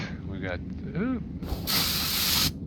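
A spray can hisses in Car Mechanic Simulator 2021, a steady broadband spray burst of about a second following brief talk from a man.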